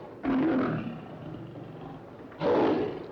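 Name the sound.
lion roaring in a cage in a film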